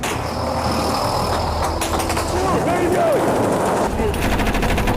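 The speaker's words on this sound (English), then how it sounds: "Marines have returned fire with everything they've got." Marines firing weapons in combat, with dense rapid gunfire rattling over a constant loud roar of engine and wind noise, ending in a burst of sharp shots.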